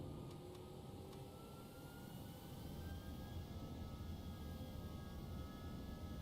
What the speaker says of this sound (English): I'm going to start taxiing.